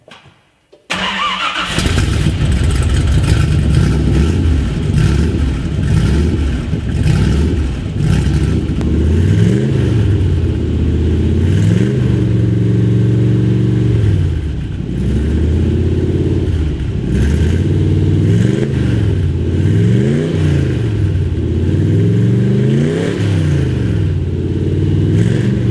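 A 1973 Corvette big block with a double pumper carburetor starts up and idles loudly, then is revved repeatedly in rising and falling sweeps with a strong carburetor whine, close by with no talking.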